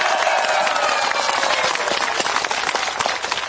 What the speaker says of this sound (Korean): 힘찬 박수 부탁드립니다.